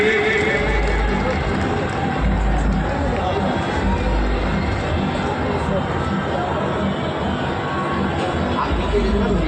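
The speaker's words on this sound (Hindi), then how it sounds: "प्रोफेसर साहब का स्वागत करें, जोरदार तालियां" Crowd at an outdoor public political rally in Muradnagar, a dense continuous wash of clapping and hubbub from many people, steady and fairly loud for the whole stretch.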